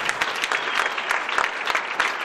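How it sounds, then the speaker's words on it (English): Church congregation clapping together as an offering during a lively service, a dense, steady wash of many hands filling the room without pause. "A clap offering to Jesus."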